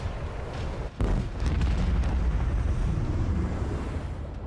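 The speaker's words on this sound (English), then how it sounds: "Starboard macro cannons. Target. Eldari Shadow Runner. Fire." A macro cannon volley in the Rogue Trader game fired at an Eldari Shadow Runner: a sudden heavy boom at about one second, then a sustained low rumbling roar of blasts that slowly fades, loud and alone with no voices.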